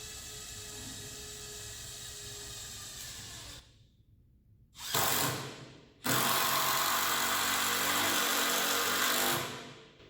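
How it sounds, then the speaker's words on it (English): A small 12-volt impact driver runs in bursts up close, a loud buzzing whir that stops abruptly, restarts briefly, then runs for several seconds before cutting off. "So this is a little 12-volt impact."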